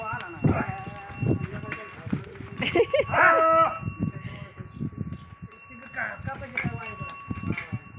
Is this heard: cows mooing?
yes